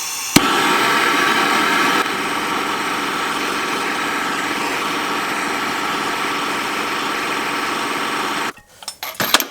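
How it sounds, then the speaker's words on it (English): A blowtorch heats a seized exhaust header bolt on a 1996-2004 Mustang GT, making a loud, steady roaring hiss that begins with a pop, runs unbroken for several seconds, then cuts off into a few clanks. "you will need a blowtorch setup for this"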